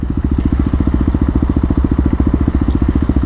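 Kawasaki KLX250 motorcycle with Stage 1 mods accelerating hard from a standstill on a flat road, the engine a loud, close, rapid pulsing thrum that holds a steady firing rhythm throughout, with no talk.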